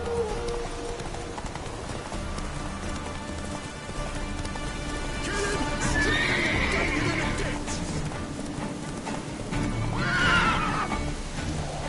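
Geralt's horse Roach galloping in The Witcher 3, a steady run of hoofbeats under rain, with two loud whinnies breaking through near the middle and end.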